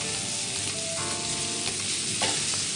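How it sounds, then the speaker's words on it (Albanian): Onion frying in a pan with oil and butter gives a steady, close crackling sizzle with faint stirring scrapes and no voices. "Atëherë kemi shtuar qepën në tigan, pak vaj dhe pak gjalp."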